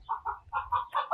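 Farm chickens on a Portugal farm clucking close by, a quick run of short rhythmic clucks with no talking.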